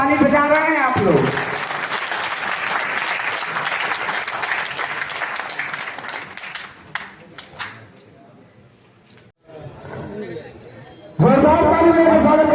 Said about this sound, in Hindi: बहुत धीरे धीरे ताली बजा रहे हैं आप लोग।